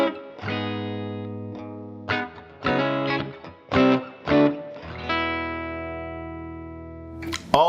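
An electric guitar plays a signature riff through a Fender amp on a clean tone, picked notes and chords in short bursts with gaps, ending on a long sustained chord, loud and close, no voices.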